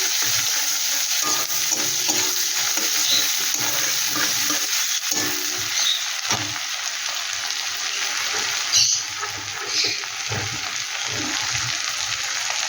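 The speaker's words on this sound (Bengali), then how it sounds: "এখানে দেখো একটা বড় সাইজের পেঁয়াজ কুচিয়ে দিয়েছি পেঁয়াজটাকে একটু ভালো করে আমি ভেজে নেব" Chopped large onion frying in oil with whole cumin while preparing a prawn dish, a steady close sizzle with occasional stirring scrapes throughout, no talk.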